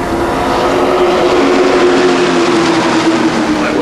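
Race trucks accelerate together at the green flag of a 20-lap Midwest Truck Tour race at the Milwaukee Mile, a dense, loud, continuous roar of several engines filling the whole stretch.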